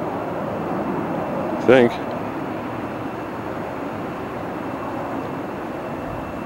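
A military jet flying with afterburners over Fresno at night makes a continuous broad rumbling roar that fills the whole stretch, with someone briefly speaking over it.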